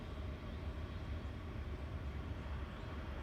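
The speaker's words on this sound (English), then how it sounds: "Looks like a coal train." A CSX coal train passing by, a steady, continuous low rumble and rolling roar of railcars that holds nearly level throughout, close and fairly loud with no voices.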